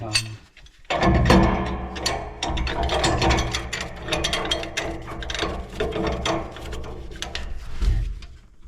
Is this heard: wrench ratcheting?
yes